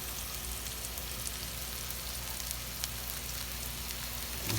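Onion sizzles steadily in a hot pan while being sautéed, a faint, even hiss of frying with occasional small crackles and a slight stir near the end, with no talking.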